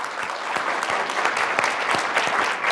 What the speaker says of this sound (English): if we can give Dr. Jones a round of applause